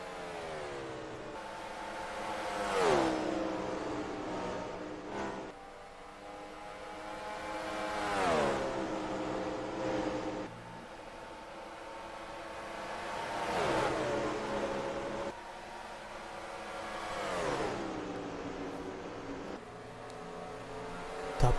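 Stock cars racing at Texas in a racing video game roar past in repeated waves, each engine note swelling and then dropping in pitch as the car passes, steady and moderately loud.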